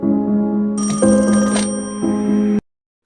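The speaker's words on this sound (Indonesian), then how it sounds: "Harker pun terbangun dan mendengar suara telepon" A telephone bell rings loudly and close, a continuous trilling tone with a brief electronic chirp layered in, then cuts off abruptly.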